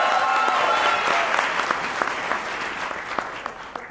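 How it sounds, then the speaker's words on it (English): An audience applauds a stage manager at a community theatre play, a lively round of clapping that starts full and gradually thins out, with a few distinct claps near the end and faint voices underneath. "just give a round of applause for Kyra Knowles"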